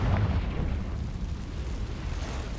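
A fiery explosion spell from the Hogwarts Legacy video game erupts in a loud, deep, rumbling blast that decays into a dense roar over a couple of seconds, with no speech.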